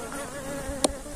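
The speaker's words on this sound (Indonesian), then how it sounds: "kalau teman-teman misalkan mendengar ada suara lebah ngungung, itu karena di tempat saya ini masih banyak lebah yang tertinggal ya" Insects buzzing around a bee trap, a steady faint hum with a brief louder buzz near the end as one passes close.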